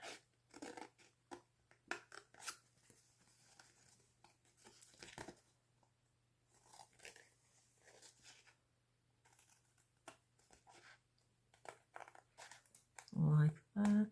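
Scissors cut the overhang off an index-card journal craft card in a few short, crisp snips, loudest near the end, with someone talking over much of it.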